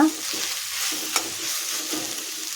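Spring onion and chopped vegetables fry for egg fried rice, a steady close sizzle with occasional stirring scrapes in the pan, no talking.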